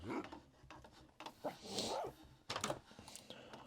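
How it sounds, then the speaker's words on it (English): Dogs bark and yip several times in short, irregular bursts, fairly faint and somewhat distant, among other low background sounds. "Dogs are barking."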